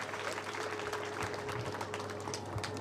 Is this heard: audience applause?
yes